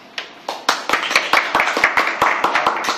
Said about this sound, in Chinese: 我们热烈掌声欢迎